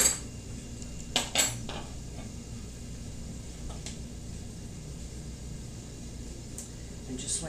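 Cutlery clinks against dishes as thick homemade Balkan-style yoghurt is dished up, with two sharp clatters near the start and a few faint scrapes and taps later over a quiet room hum.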